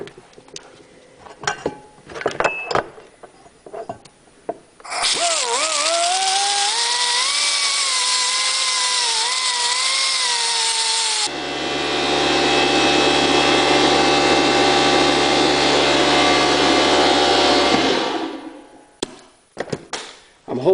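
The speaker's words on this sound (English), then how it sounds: "I'm going to just try to grind a little bit of that away" After some clanking, a loud grinder whines with wavering pitch, then shifts to a harsher, lower roar as it grinds metal away before cutting off amid more clatter.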